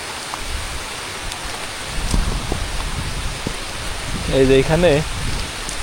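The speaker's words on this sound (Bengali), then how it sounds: "বৃষ্টি আবার হয়েছে।" Steady rain falls outdoors as a constant hiss with occasional nearby drips, while a person speaks briefly partway through.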